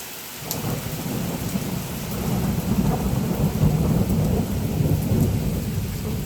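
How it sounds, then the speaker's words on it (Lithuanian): Heavy tropical downpour outdoors with low rumbling thunder, a dense, continuous roar of rain that swells slightly and holds steady throughout, no voices. "lauke tokia liūtis"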